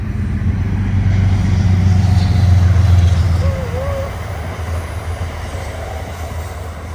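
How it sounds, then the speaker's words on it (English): An Amtrak train rumbles past nearby in the Hudson River Valley, a heavy low roar that swells and then eases, with a faint squealing tone riding over it. "I think a train might be coming through here any time now."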